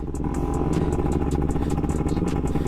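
A small motorcycle rides a dusty pine forest road, its mid-pitched engine droning steadily and close, with rattling clatter from the bike and rough ground running continuously through the clip.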